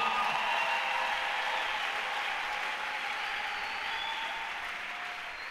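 A church congregation claps in sustained, dense applause to acclaim the Lord, loud at first and gradually tapering off, with no speech over it.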